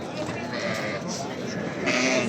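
Young sheep bleat at a livestock market in Kattaqo'rg'on, with overlapping bleats close by. Traders' voices and market chatter run underneath.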